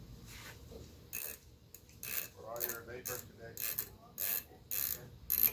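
A motorcycle clutch lever adjuster wheel is spun by hand, giving a series of small close ratcheting clicks in irregular bursts.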